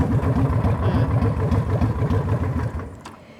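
Honda Shadow VT 750 motorcycle with aftermarket exhausts idling nearby: a loud, lumpy, rhythmic low rumble of pulsing beats that stays steady and then eases slightly at the end, with no speech.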